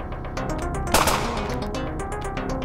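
Enemy gunfire in an indie first-person shooter, a rapid string of close shots with one louder crack in the middle, going on steadily with no talking.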